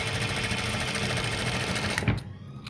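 A sewing machine stitching a shirt cuff runs in a fast, continuous mechanical chatter, close and loud, stopping abruptly near the end.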